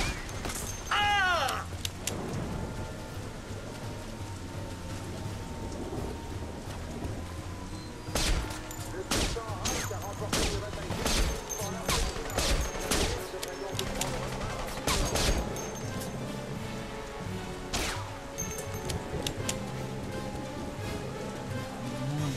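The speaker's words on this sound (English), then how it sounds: "The shooting started." Gunfire from The Saboteur video game crackles in scattered bursts over a steady music and ambience bed, with several sharp volleys clustered mid-way and near the end.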